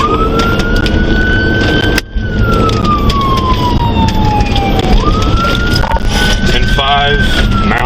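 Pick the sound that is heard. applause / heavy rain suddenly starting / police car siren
police car siren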